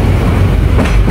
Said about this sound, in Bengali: আমাদের ট্রেনটাও কিন্তু একদম টাইম টু টাইম ছেড়ে দিচ্ছে।